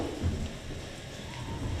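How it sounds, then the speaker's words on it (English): A theatre storm effect on a high school stage, steady dense rain hiss with low rumbling thunder beneath, continuous and moderately loud throughout. "God, it's something like a storm out there."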